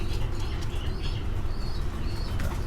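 Fancy pigeons in cages at a pigeon farm in Tangail coo softly and flutter their wings amid a busy background with faint chirps from other birds.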